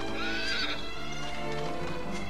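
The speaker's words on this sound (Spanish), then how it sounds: "tienen un caballo aquí, tío" A horse in the video game Dragon Quest VIII whinnies loudly with a long, wavering neigh, accompanied by clip-clop hoof sounds, heard close and clear without talk.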